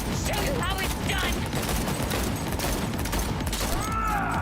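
Rapid bursts of automatic gunfire crackle loudly and continuously in the shooter game Cyberpunk 2077, mixed with mechanical clanks and a few whooshing sweeps, dense and close throughout.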